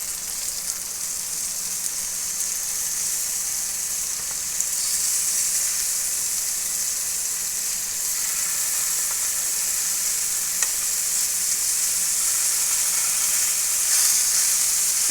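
Tuna fish fries in a pan over a medium flame, giving a dense, steady hiss of sizzling oil that runs unbroken and fairly loud throughout, with no voices.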